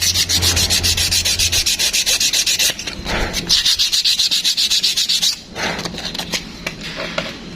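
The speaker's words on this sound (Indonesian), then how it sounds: "Jadi amplas sampai di tepi-tepinya" Sandpaper rubs back and forth over the edges of a hard forged carbon resin vape mod in quick, regular strokes, close up, pausing briefly before the scratchy rhythm resumes.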